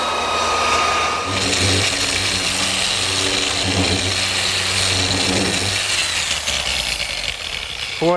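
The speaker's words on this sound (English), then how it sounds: "They've had sanders like this in the auto body business for years, run by Air, random orbit sanders" An air-powered random orbit sander runs continuously on a wooden tabletop, a loud, close, steady whirring hiss with a constant buzzing hum underneath and a brief rising squeal at the very end.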